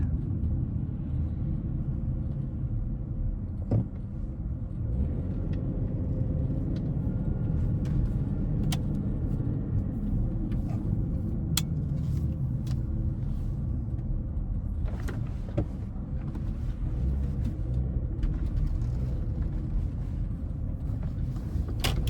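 A Porsche Cayenne with a stability system fault rolls along at slow speed, giving a steady low engine and road rumble with a few faint clicks and knocks throughout.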